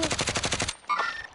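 Rapid automatic gunfire in a first-person shooter video game, a fast loud burst of evenly spaced shots lasting under a second, followed by a brief ringing tone and game sound effects.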